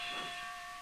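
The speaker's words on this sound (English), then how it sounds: ""Good morning," whistled Edward." A steady steam whistle sounds alone, a sustained hissing tone with a bright pitched core, holding level for under a second before easing slightly.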